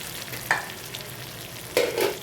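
Fried potatoes go into a sautéed spice masala for meat ghugni, heard as two brief, close scraping stirs over a soft, low sizzle.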